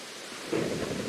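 Thunderstorm in a video game, with steady rain hiss and a low rumble of thunder swelling partway through, heard alone without talk.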